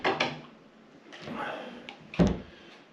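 Hotel room lockers being opened and closed, a few sharp clunks and knocks of doors and latches with quieter shuffling between, close by and separated by short pauses.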